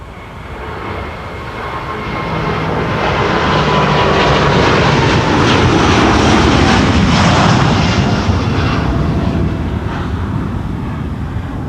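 Close, loud roar of a LATAM Airways Boeing 787-9 Dreamliner jet airliner, eight years old, at Amsterdam Schiphol, swelling to a broad engine rumble mid-pass and easing slightly toward the end, with no voices.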